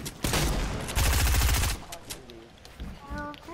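Fortnite gunfire breaks out as loud, close bursts of rapid automatic shots, then drops to scattered game effects and chirpy tones, with little or no talking.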